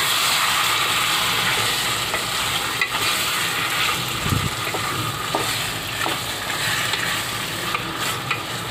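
Mutton masala for mutton sukka fries in a pan, giving a loud, steady sizzle and hiss with occasional stirring scrapes, continuous throughout with no voices.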